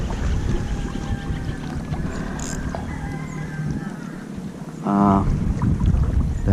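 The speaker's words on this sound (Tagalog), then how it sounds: "May kaunting hangin din." Steady wind blowing across open water while fishing, a constant broadband rush with a brief louder engine-like hum near the end.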